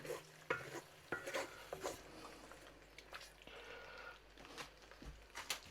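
Chicken bhuna is stirred in a pan while its liquid cooks down. Quiet, close spoon scrapes and soft squelches come in irregular bursts over a low, faint sizzle, with no talking.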